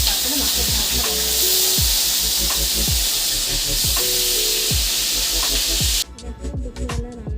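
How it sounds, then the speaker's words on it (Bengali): Fish fries in hot oil in a wok, a loud continuous sizzle with repeated scraping stirs, then cutting to quieter background sounds near the end. "কড়ায় তেল বসিয়ে দিয়েছি, তেল গরম হয়ে গেছে, আর এখানে এবার মাছটা আমি ভেজে নিচ্ছি।"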